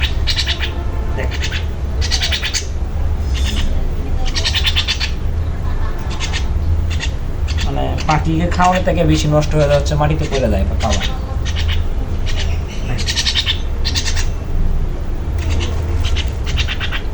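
A pet myna bird being hand-fed gives repeated short, harsh chirps and squawks close by, mixed with scratchy pecking, while someone talks almost continuously.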